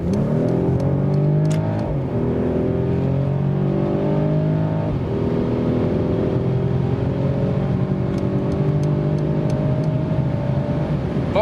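A Mercedes E450 Cabriolet with its six-cylinder engine in sports mode accelerates hard, a loud continuous rising engine note with gear changes stepping the pitch down and back up.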